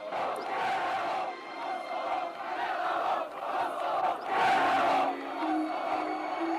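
A large crowd of Serb protesters at a rally in Kosovo Polje roars and shouts in rising and falling waves, loud and chaotic, with voices blending into a continuous din.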